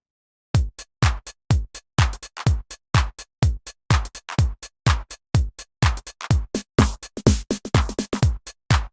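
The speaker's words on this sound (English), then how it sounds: "Here's what the drum machine sounds like before going through the X1." A drum machine plays a dry, unprocessed beat of sharp, evenly spaced kick and snare hits in a steady driving rhythm, close and punchy with no other sounds.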